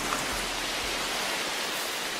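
Rain falls steadily in the Amazon rainforest, a soft, continuous hiss of drops on foliage, fairly quiet and even throughout.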